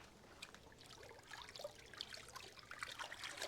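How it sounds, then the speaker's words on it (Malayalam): Water sloshing and trickling as it is stirred by hand during well water purification, a soft, close, continuous splashing with small bright drips throughout. "ഞാൻ ജസ്റ്റ് ഒന്ന് കൈകൊണ്ട് ഇളക്കി കൊടുക്കുകയാണ്"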